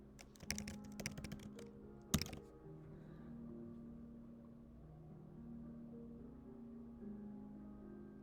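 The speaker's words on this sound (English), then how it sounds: "let's type in baseball cap." Someone types on a computer keyboard to enter a prompt into an image-editing tool. Quick close clicks sound for the first couple of seconds, ending in one sharper keystroke, then a quiet room hum takes over.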